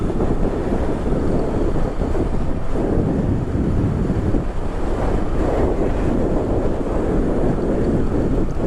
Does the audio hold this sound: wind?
yes